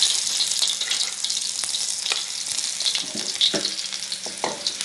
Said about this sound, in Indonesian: Ini aku tumis bawang putih,